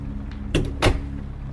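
A door being shut in a drafty hallway, heard as two close, solid knocks about a third of a second apart over a low steady hum.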